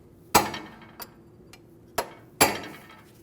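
A hammer strikes a punch set on a torqued front axle nut of a 2012-2016 Honda CR-V, staking it into the keyway: four sharp metallic taps, two loud and two lighter, spaced unevenly, close and with no voices.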